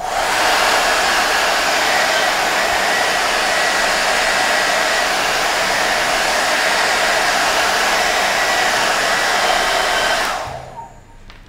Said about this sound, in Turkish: Konuşurken sesim gelmez diye fön makinesini kapattım.